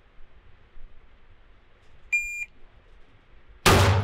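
A short electronic beep from a shot timer sounds at a steady pitch for about a third of a second, followed shortly by a loud, sharp handgun shot close by at a shooting range.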